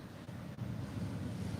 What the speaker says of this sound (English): I'm gonna show you these waves.